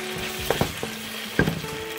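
Tomatoes hit a pan of frying ginger-garlic spice paste for chatpati, with loud sizzling and a few sharp spattering bursts and stirring scrapes.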